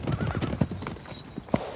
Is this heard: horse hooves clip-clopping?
yes